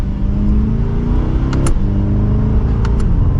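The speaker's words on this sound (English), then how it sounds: "And with one last acceleration" A 2024 Chevrolet Corvette C8 2LT Z51 accelerates hard with a loud, close engine roar whose pitch climbs steadily, with short shift breaks in between.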